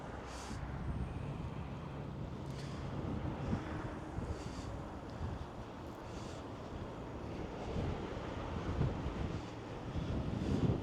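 Steady, heavy wind on Mount Snowdon roaring and buffeting the microphone, with low rumbling gusts that swell toward the end.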